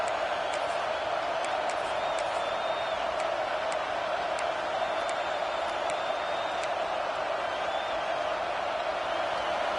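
A large football stadium crowd roars in a steady, dense wash of noise near halftime of a Gators game, with faint scattered whistles and whoops.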